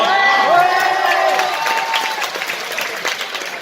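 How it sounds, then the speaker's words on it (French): A cinema crowd at the Le Grand Rex premiere of the live-action Nicky Larson film in June 2019 bursts into loud applause and some cheering. Music plays under the opening moments, then sustained clapping continues and slowly eases. "qu'on peut applaudir"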